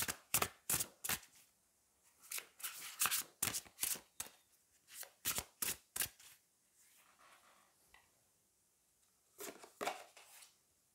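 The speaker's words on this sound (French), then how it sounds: "Je vais prendre une deuxième carte." Tarot cards are shuffled in quick bursts of crisp riffling flicks, then pause before more shuffles and a card being drawn, close and clear with no voices.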